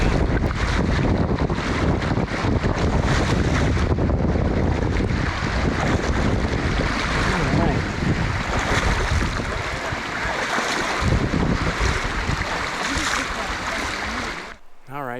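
A hiker wades through a creek crossing on the Eagle Rock Loop in Arkansas, with loud, continuous rushing and splashing water close to the microphone, mixed with wind buffeting and sloshing steps for about fifteen seconds.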